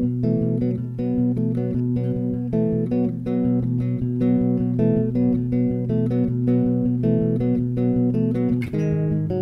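Electric bass guitar playing a fast riff at full speed, a steady, driving run of repeated picked notes with a constant rhythmic pulse, heard alone and clear throughout.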